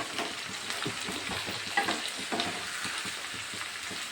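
Turmeric is stirred into a homemade olive, radish and carrot pickle in a hot pan, giving a soft, continuous sizzle with light rhythmic scraping and stirring close by.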